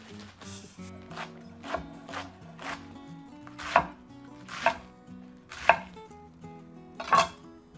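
Knife chopping Italian sub sandwich fillings on a board, a run of irregular cuts that grow into several sharper, louder chops toward the end, with no voices.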